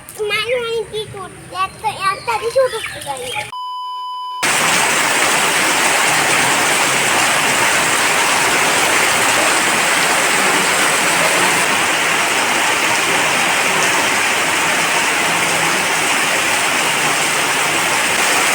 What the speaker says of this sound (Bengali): একদম মুসুলধারে বৃষ্টি যাকে বলে সেটাই কিন্তু এখন হচ্ছে